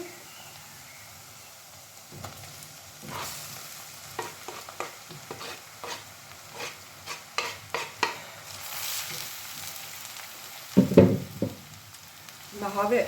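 Sorrel leaves go into a hot frying pan and cook with quiet sizzling, punctuated by a series of stirring scrapes and utensil taps that grow busier and louder toward the end, no voices present.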